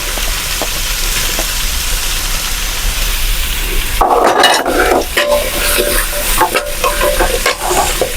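Onions frying in hot oil in a pan for mutton varattiyathu sizzle softly, then about halfway through a loud burst of stirring and scraping begins, with irregular clatters over a continuous close sizzle and no voices.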